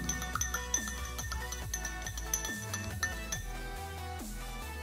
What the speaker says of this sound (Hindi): अब हम इसमें डालेंगे आइसोप्रोपाइल एल्कोहल। इसको मिक्स कर लेंगे थोड़ा।